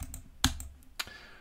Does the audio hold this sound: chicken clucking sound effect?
no